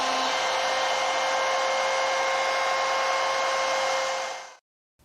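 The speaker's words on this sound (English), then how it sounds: "To do that, I'll be using a white side rabbeting bit mounted in my plunge router." A plunge router fitted with a rabbeting bit runs steadily while cutting a 1/4-inch rabbet in cabinet stock, a loud close high whine that holds even and then cuts off abruptly.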